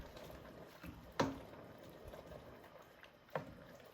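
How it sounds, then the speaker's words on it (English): Fresh spinach being stirred into a creamy cannellini bean soup in a pot: soft, quiet liquid sloshing with two brief spoon knocks, one near the start and one near the end. "I'm going to add 5 ounces of fresh spinach and give that a stir"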